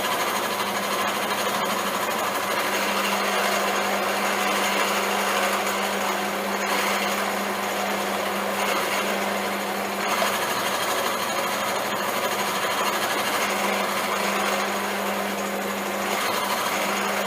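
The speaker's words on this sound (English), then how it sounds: "So we'll drill another test hole and see if we've reduced the diameter of the hole we're going to get." A modified drill bit bores a test hole in metal with cutting oil, giving a steady, continuous machine whir and grind that holds at an even level for the whole stretch, with no talking.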